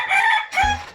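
A gamecock crows loudly and close before a cockfight, a short harsh crow cut into two bursts with a low thump at the end.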